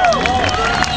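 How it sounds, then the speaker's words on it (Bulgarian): Stormy applause and crowd cheering at a drift event's tuning show in Sofia, a dense, loud wash of clapping and voices filling the whole second without a break. "Изпращаме го с бурни аплодисменти"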